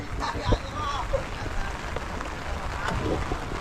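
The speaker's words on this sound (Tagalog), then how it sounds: "Ayaw makisama ng ulan." Steady rain pattering outdoors as steady broadband hiss, with scattered drop impacts and some background activity mixed in.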